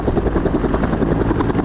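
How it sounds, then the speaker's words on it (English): A reconnaissance helicopter flying over a forest fire, its rotor producing a loud, steady rhythmic thudding close by, alone and continuous. "I'm assuming this chopper here is some kind of a reconnaissance chopper"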